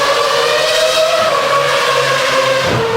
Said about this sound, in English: I can tell that Cosworth engine anywhere.